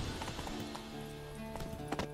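Horse hooves clip-clop at a steady trot on a road in The Witcher 3: Wild Hunt near Kaer Morhen. The hoofbeats are fairly quiet and close, with a faint whinny-like tone running beside them.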